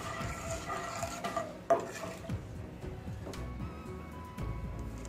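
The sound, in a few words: stirring pistachios briefly in hot oil in a pan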